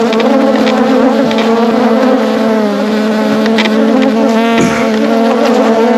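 Honey bees in an opened hive drone in a dense, continuous buzz close at hand, loud and steady throughout with small shifts in pitch as bees swirl nearby.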